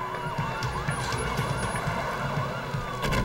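Police car sirens wail continuously at a shooting scene as backup arrives, the rising and falling tones loud and overlapping with a steady engine rumble beneath.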